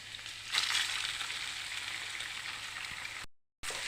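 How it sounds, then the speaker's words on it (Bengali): Two chicken eggs dropped into a pan of frying onion and garlic, a soft steady crackling sizzle with a slight surge near the start, continuous and fairly quiet before a brief cut to silence. "তো এখন আমি দিয়ে দেবো এর মধ্যে ডিম দুটো।"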